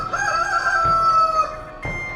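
A rooster crows in one long, drawn-out cock-a-doodle-doo, close and clear, followed by a brief clucking note, used as a sound effect in a Bengali horror tale.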